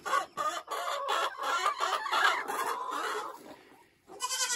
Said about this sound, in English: This is the original 5 chickens.